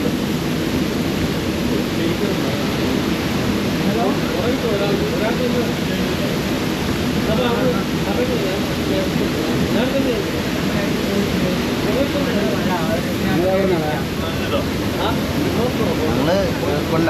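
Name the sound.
rushing water at a forest waterfall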